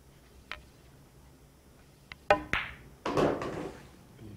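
Pool cue striking balls during 8-ball practice: a few sharp, close clicks and knocks scattered across a few seconds, with a louder cluster of ball contacts in the middle and a rolling clatter after, in an otherwise quiet room.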